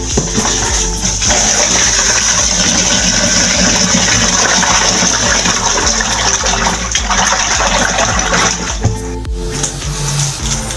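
Running tap water rinses fish and mutton pieces in a home kitchen, a steady close gushing splash that continues for the whole stretch with small shifts as the meat is handled, and no talking.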